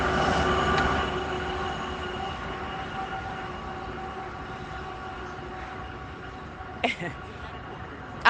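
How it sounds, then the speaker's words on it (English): A passing train rolls by with a steady rumbling drone and faint wheel squeal, fading slowly into the background, followed by a brief sharp squeal and a knock near the end. "Too bad it wasn't a GO train."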